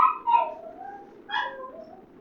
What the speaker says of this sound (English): Look at my dog's making noise